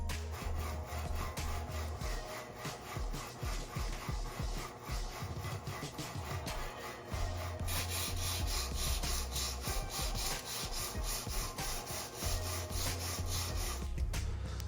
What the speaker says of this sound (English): the sanding is really coming along